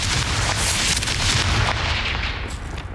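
A Confringo spell explodes in the Hogwarts Legacy video game, a loud fiery blast with crackling bursts that rumbles for a couple of seconds and then fades out, with no voices over it.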